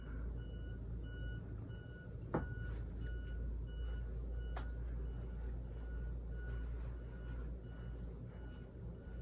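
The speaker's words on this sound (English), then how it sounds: "School bus." Reversing beeps from a school bus, a steady series of faint high electronic beeps repeating at even intervals over a low idling engine rumble, heard from some distance.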